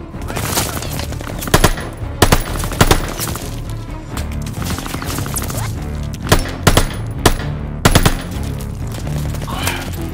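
Rapid automatic gunfire from the Call of Duty Vanguard campaign, Rats of Tobruk mission, crackles in repeated sharp bursts over a steady battle din, loud and close, with no talk.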